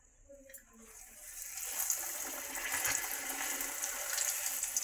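Green-coloured luchi dough rounds slip into hot oil, and a steady rushing sizzle builds after a quiet start and then holds at moderate loudness to the end.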